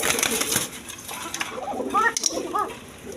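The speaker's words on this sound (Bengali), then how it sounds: "এটা এক পেয়ার বাসিরাজ কোকা কবুতর আছে" A pair of Basiraj Koka pigeons gives a few short, rising coos near the middle and end, close by, over a rustling, noisy background with faint flutter-like patter.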